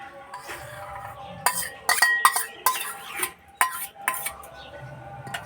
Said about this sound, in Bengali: এবার ডিমের মিশ্রণটা সুজিতে দিয়ে দেব।